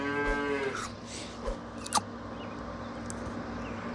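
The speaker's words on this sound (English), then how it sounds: "We buy the cow." Cartoonish cow moo as the cow pet is bought in the video game Super Auto Pets, a short lowing call followed by light game effects, no speech.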